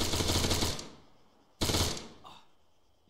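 Two bursts of rapid automatic gunfire from a military shooter video game, loud and close, separated by a short pause, with a faint pop trailing at the end.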